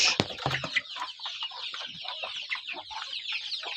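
Chickens clucking around newly hatched chicks, a close, continuous chatter of soft clucks and peeping calls with a few sharp knocks near the start.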